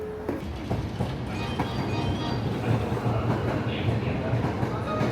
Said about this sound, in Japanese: この狭いホームの両側を電車が通り抜ける瞬間はかなりの迫力と恐怖さえも感じます